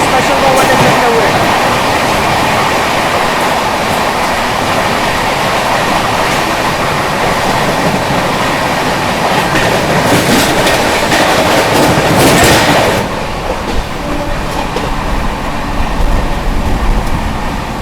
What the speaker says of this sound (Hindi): खातीपुरा हावड़ा स्पेशल को ओवरटेक करते हुए